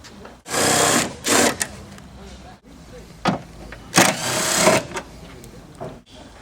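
A Phillips screwdriver, likely powered, backs out the two corner screws of a Ford Windstar cowl panel, heard as several whirring bursts of varying length with pauses between them, close by.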